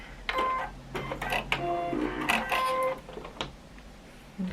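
A sewing machine stitches a log cabin quilt block in short, irregular bursts of rapid mechanical whirring and clatter, fairly close, with quiet pauses and faint handling noises between runs.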